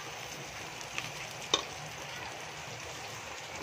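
Onion frying in oil alongside golden-brown garlic gives a faint, steady sizzle throughout, with a couple of soft clicks near the start.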